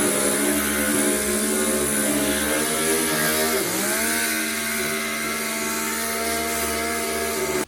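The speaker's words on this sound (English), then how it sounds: "I'm gonna try to sand the galvanizing off" A power sander grinding galvanizing off the metal of an arcade game cabinet, a loud, steady high-pitched whine with strong harmonics that dips briefly in pitch under load, close and continuous throughout.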